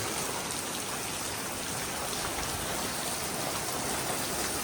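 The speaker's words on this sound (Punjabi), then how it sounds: "ਸ਼ੁਰੂ ਹੋਈ ਆ ਬਰਸਾਤ" Steady, dense rain pours down on wet farm fields in Punjab, a continuous broadband hiss with no breaks, close and fairly loud, with no voices.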